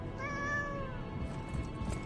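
A cat in the video game Lies of P lets out a single drawn-out meow near the start, clear and close, followed by quiet background rumble and small shuffling sounds.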